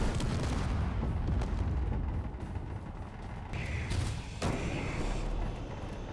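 Missile launchers blowing up in the video game Space Engineers: a dense burst of booming blasts and crackling debris, loud at first and then trailing into a rumbling wash with a few later thuds.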